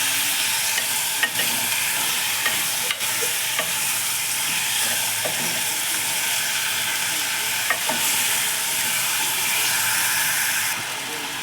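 Mixed vegetables for veg kurma frying in a pan, a steady broadband sizzle and hiss running throughout with intermittent scraping stirs of a spoon against the pan, fairly close and continuous.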